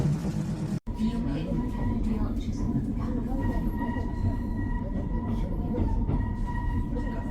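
A steady low rumble of a subway train running along the track in Busan, with a constant mechanical drone and a faint tonal whine throughout.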